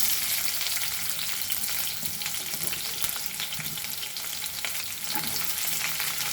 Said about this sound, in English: So now here oil is ready for frying, and now we will add our onions to this.